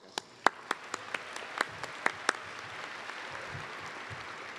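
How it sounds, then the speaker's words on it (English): Scattered applause from a small group at a commencement ceremony, a few sharp individual claps standing out near the start before settling into a light, thinning patter. "Give them a round of applause."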